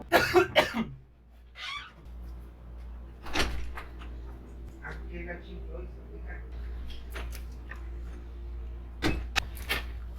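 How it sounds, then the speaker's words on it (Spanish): A person has a coughing fit, with several loud, sharp coughs spaced across the stretch against a quiet room hum. Faint rustles and thumps sit in the pauses between them. "me empieza a dar una tosedera"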